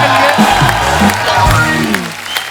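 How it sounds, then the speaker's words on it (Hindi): Loud studio audience applause and cheering for guests on a comedy talk show, with whoops and shouted voices rising over thick, continuous clapping. "जोरदार तालियां हमारे मेहमानों के"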